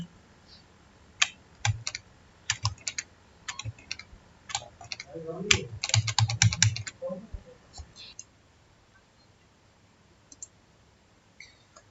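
Computer keyboard being typed on while saving with Ctrl S in a code editor: scattered sharp key clicks and mouse taps, a few denser bursts midway, close and fairly dry, then quieter, with faint speech in places.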